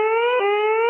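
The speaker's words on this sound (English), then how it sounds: "Uh-oh, the sirens." Civil defense sirens wail in a steady, loud harmonic tone with a slight pitch dip midway through, sounding alone without any talk.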